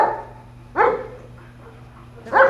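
A small dog gives two sharp barks about a second and a half apart, fairly close and clear, with a low steady hum underneath and no talking.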